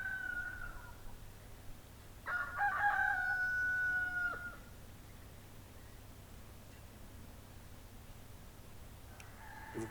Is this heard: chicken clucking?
yes